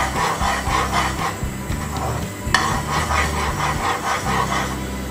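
Cooked rice being stirred in a pot for mutanjan zarda, a steady scraping and rubbing of a spoon against the pot with a bubbling, sizzling bed underneath and one sharp knock midway, close and continuous without talk.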